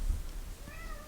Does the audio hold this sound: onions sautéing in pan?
no